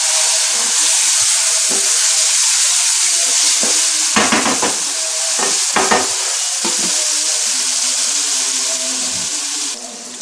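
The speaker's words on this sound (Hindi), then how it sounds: "और अब हम इसमें मिर्चें जो भरी हुई थी कीमे के साथ वो इसमें ऐड कर देंगे। और इसको अच्छे तरीके से भूनें।" Keema-stuffed green chillies stir-fry in a pan with a continuous loud sizzle, broken by a few sharp bursts of scraping and tossing near the middle, no voices.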